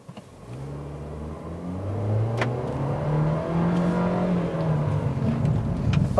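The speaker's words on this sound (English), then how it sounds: "when I put my foot down, it's very quick to drop down a ratio and kind of give me a little bit more acceleration" A 2018 Nissan Kicks SR with a CVT accelerates hard on the road, its engine droning up steadily in pitch and loudness from inside the cabin, continuous and close with no talk.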